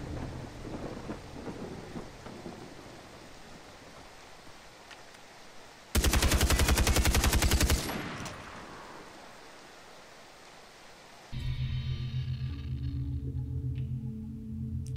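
Burst of automatic gunfire from a weapon in the video game Far Cry 3, a dense rapid rattle lasting about two seconds, set between steadier noisy game ambience and a later humming background.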